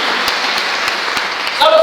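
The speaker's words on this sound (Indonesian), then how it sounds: "Boleh tepuk tangan bagi Tuhan" Church congregation claps together in a steady, even wash of applause, fairly close, with a few sharp individual claps standing out and a brief voice rising at the very end.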